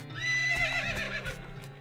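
A horse in the Western game West of Loathing lets out a loud, close whinny that rises and then wavers down, with a few hoof clops beneath it.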